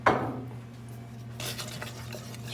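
A spoon scrapes and stirs through an au gratin potato mixture in a pot, opening with a sharp clink and followed by soft rubbing scrapes over a steady low hum.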